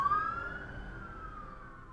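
An emergency vehicle siren, police or ambulance, wails with a single clear tone that rises and slowly falls, heard over faint background noise with no speech.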